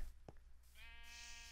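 A single Minecraft sheep bleats once, fairly close and clear, a short wavering tonal call following a faint brief click.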